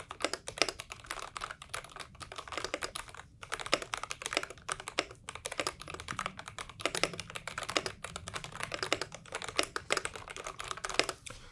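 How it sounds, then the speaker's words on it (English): Steady typing on a Dustsilver D84 mechanical keyboard with pre-lubed switches, a fast run of close, crisp keystrokes with no talking. "So if I type on this, let's do a few sound tests"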